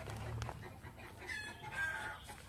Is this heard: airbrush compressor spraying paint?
no